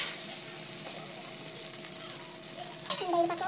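Rava dosa batter sizzles on a hot tawa with a steady, soft frying hiss, then a sharp metallic clink near the end is followed by a louder burst of sizzle.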